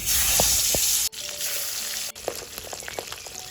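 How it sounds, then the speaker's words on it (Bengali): Pabda fish sizzling loudly in hot mustard oil in a pan, a steady close frying hiss broken by a couple of sharp clicks, with no talking. "তেলটা খুব ভালো করে গরম হয়ে গেছে, মাছটা দিয়ে দিলাম।"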